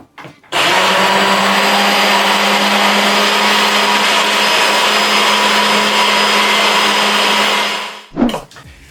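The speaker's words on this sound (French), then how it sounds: "si vous avez un mixeur à soupe, eh bien vous allez le mixer" A soup blender purees a chocolate mousse mixture with a loud, steady whirring roar that runs unbroken for several seconds, then cuts off, followed by a brief clunk.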